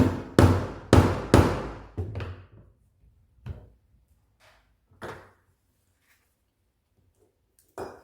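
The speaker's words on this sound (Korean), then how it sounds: "망치 소리가 좀 들려요" A hammer strikes a diamond chisel to punch holes through leather for a Galaxy Z Flip4 case, sharp close knocks, first three loud blows in quick succession, then a few lighter, sparser taps trailing off into quiet.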